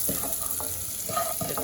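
Seasoned bluefish, dusted with seasoned salt and complete seasoning, frying in a pan as it is stirred, a soft sizzle broken by a few brief scraping strokes, close and moderate in level, without voices.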